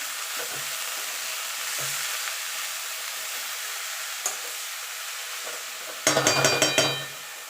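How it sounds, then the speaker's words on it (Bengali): Chopped chickpea greens stirred into a hot mustard-oil tempering of radhuni and black cumin, with a steady soft sizzle and a burst of sharp scraping clatters near the end, no talking. "এবার যে শাকটা কেটে রেখেছিলাম সেটা দিয়ে দেবো দিয়ে ভালো করে নেড়ে নেবো"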